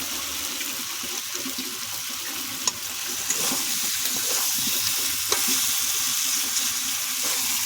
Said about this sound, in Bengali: তেল ছেড়ে গেছে, এবার আলু দিয়ে দেবো।